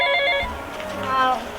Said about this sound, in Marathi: ह्यो फोन कोणाचा येता